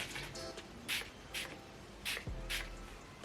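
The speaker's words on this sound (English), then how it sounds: "I'm just gonna go with a dewy setting spray." Four short hissing spritzes from a dewy makeup setting spray bottle, evenly spaced and close up, over a low background hum.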